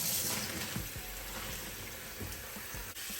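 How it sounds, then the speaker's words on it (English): Cold running water splashing steadily close by over noodles in a pan, with occasional clunks and stirring sounds. "You want to rinse the noodles in cold water to stop the cooking process."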